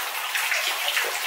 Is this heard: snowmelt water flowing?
yes